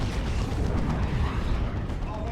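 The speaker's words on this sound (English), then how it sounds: "double missile launch attacks and Vanguard with Power Fist to help go after these vehicles" A missile launcher attack bursts in a Dawn of War 2 real-time strategy battle, a dense rumbling explosion roaring steadily for a couple of seconds at close range.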